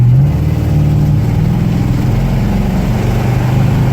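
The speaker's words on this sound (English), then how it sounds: "She's got a nice-sounding 440. The exhaust on it, true dual, is a little bit louder than I'd care for" A loud, deep 440 V8 engine in a 1966 Imperial Crown sedan rumbles and revs up close, its throaty true dual exhaust note rising and falling without any talking.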